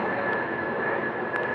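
Airplane passing overhead during an outdoor college commencement ceremony, a steady, fairly loud broadband engine roar that holds throughout with no talk over it.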